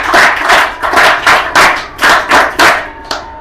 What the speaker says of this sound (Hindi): आपके लिए ताली बजाई जोर से